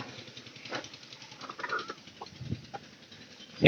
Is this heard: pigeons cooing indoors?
yes